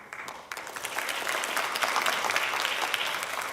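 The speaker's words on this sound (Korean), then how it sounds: "큰 환영의 박수로 맞이해 주시면 감사하겠습니다" Applause at a party event welcoming newly joined lawmakers, starting softly, then swelling into steady clapping from a seated room.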